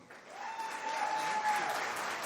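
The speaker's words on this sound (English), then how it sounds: "let's give Mr. Milnes a big round of applause" Audience applause at a high school spring band concert rises after a brief start and holds as a steady wash of clapping, with a voice briefly heard over it.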